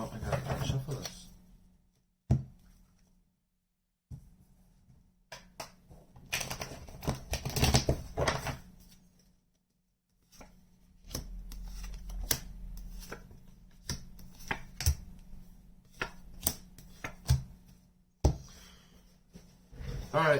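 Tarot cards are shuffled in a run of soft, crisp riffles and flicks, some close-up card slaps marking the rhythm, with a steady low hum underneath and brief pauses between bursts.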